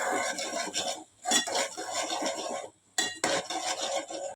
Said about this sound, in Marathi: वाटण एकदम छान परतून घेऊयात कच्चा वास जाईपर्यंत